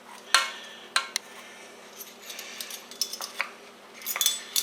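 Teaspoons of poultry seasoning measured into a dish for squash dressing, with sharp metal spoon clinks against the dish and container, then a cluster of light tapping and scraping near the end, no speech.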